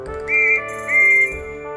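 A cartoon steam whistle from George the Steamroller gives two loud, sustained, tonal blasts, one right after the other.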